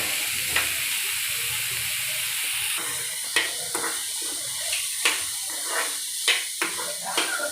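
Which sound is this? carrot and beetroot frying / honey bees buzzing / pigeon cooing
carrot and beetroot frying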